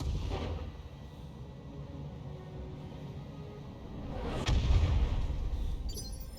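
Mech weapons firing in the BattleTech video game, low rumbling barrages with a sharp blast near the middle, followed by a heavier booming impact, moderately loud against a quiet background.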